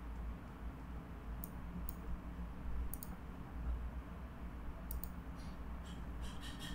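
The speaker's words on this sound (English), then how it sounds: "Click on instance state and click on terminate instance. It will ask for the confirmation. I will just click on terminate." Faint mouse clicks in scattered single and double taps over a low steady hum in a quiet room, with no voices.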